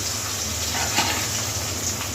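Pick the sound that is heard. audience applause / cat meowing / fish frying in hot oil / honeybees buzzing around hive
fish frying in hot oil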